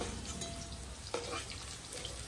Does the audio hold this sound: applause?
no